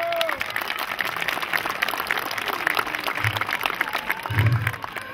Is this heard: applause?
yes